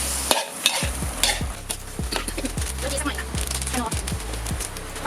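Marinated squid stir-fried in a hot pan, with a steady sizzle under repeated rhythmic scrapes and knocks of a spatula, close and busy throughout, a voice faintly present.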